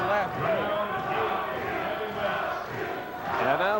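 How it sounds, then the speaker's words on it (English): A boxing crowd at a fight between Bert Cooper and Rocky Pepeli chants a boxer's name in rising and falling waves, a loud, dense roar with a commentator talking over it. "And now the chant from the crowd of Rocky, Rocky."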